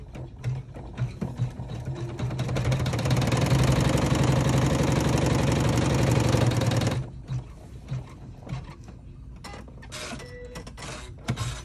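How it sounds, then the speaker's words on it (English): A sewing machine stitching a tack-down line on a clutch bag panel runs steadily and loudly for about seven seconds, then stops, leaving quieter handling clicks and small rustles. "Then we're gonna run our tack down stitch."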